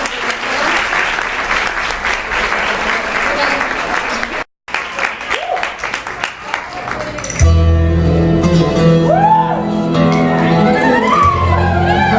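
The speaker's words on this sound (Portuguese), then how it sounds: "Vamos dar uma salva de palmas para os nossos" A crowd at a church Pentecost and Nations festival breaks into loud, sustained applause, briefly cut off, then resumes before giving way to music.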